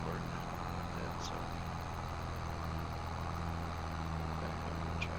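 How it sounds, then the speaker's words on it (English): A tractor engine in a farming video game drones steadily at low level, a constant deep hum throughout. "Back up in the tractor, it's kinda loud."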